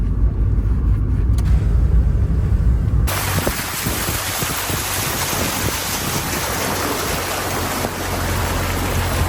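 A Mazda Miata pushes through a flooded road, water rushing and spraying steadily around the car in a loud continuous hiss that starts abruptly and stays dense throughout.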